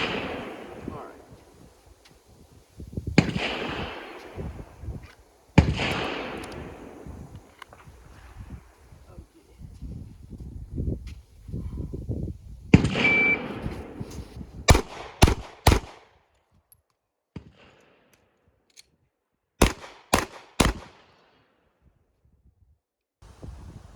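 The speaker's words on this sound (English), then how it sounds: "Now I'm about to do 2 shots left, then run back there, and then do 2 shots on the right." Gunshots crack at an outdoor shooting range during a movement drill, sharp loud reports arriving in tight clusters of two or three, separated by stretches of footsteps, rustling and quieter handling noise.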